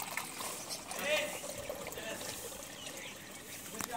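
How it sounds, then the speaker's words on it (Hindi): Water trickling and pouring for pet cockatiels outdoors, a steady light splashing stream running throughout at close range, slightly fuller near the start. "पहले काकटेल को पानी डाल देते हैं, ये प्यासे होंगे पानी पिएंगे।"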